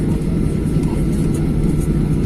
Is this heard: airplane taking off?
yes